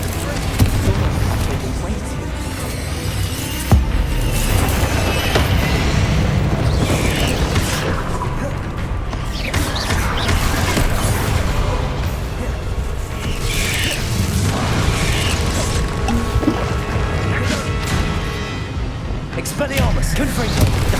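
Booming spell blasts and clanking magical combat from the Hogwarts Legacy video game form a loud, steady barrage, broken by heavier impacts, as a voice calls out during the fight.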